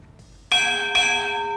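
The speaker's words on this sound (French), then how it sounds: "on a entendu la cloche" A metal bell struck twice in quick succession, bright and ringing with a long sustained shimmer that keeps sounding, fairly loud and close at the start of a podcast, with no talk over it.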